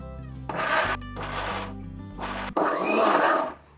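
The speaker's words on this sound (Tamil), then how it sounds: "அதையும் 30 பூண்டு பல்லையும் போட்டு அரைச்சிக்கிறேன்." A blender grinds garlic cloves and small shallots in bursts, three loud whirring runs separated by brief pauses, the last burst longest before it cuts off.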